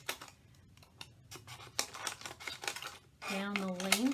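Scissors snip through a plastic drinking bottle in a series of crisp, irregular cuts close by, then a voice starts talking over the last second.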